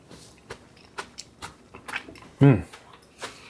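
Someone chews crunchy homemade hot pepper relish with vinegar, making close, soft crunches at a steady pace, with a brief voiced hum partway through.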